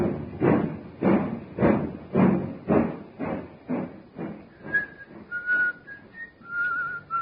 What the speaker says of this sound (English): He's whistling merrily